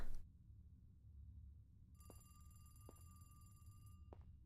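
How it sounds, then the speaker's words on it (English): A telephone rings in The Boba Teashop, a horror video game set in a boba tea shop, with quiet repeated electronic trills over a low background hum and no talking. "Oh, the phone's ringing."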